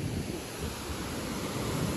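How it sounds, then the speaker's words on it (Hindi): Heavy water rushing through the open gates of Kerwa dam near Bhopal after heavy rain, a steady loud broadband roar with no pauses. "खैरवा डैम के भी सारे के सारे गेट खुले हैं"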